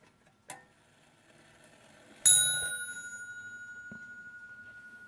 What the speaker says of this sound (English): it is a bell ring. So you kind of heard the bell here.